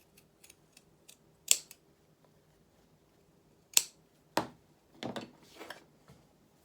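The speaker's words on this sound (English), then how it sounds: "just make sure you're not cutting through anything that you're not wanting to cut through" Scissors snip fabric beside sewn seams on a handmade cat doll, a few sharp close clicks spaced out with quiet gaps between them.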